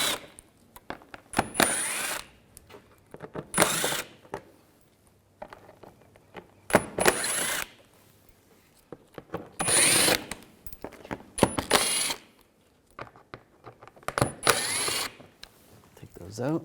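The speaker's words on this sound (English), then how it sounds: "I'm going to use a T25 socket. Take these screws out on the sides." A power driver with a T25 socket spins out undershield screws beneath a 2011-2018 Volkswagen Jetta, in about six separate high whirring bursts, each cut by pauses, with someone talking between them.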